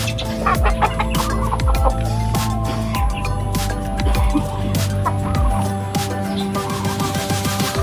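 Several chickens cluck steadily and close by, a busy overlapping chorus with a constant low hum of background noise.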